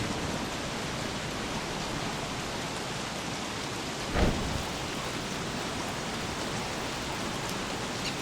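Rain falls steadily in Don't Starve Together, a dense, even hiss throughout with one brief soft thump midway and no talk.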